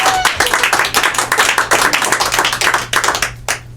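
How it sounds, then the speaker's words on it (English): Audience applause at an improv comedy show at ImprovBoston, steady dense clapping from a crowd filling the room and fading out near the end. "You shall applaud now."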